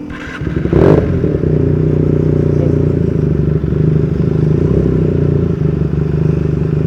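A motorcycle engine runs steadily at close range, a low continuous rumble with a brief clattering burst near the start.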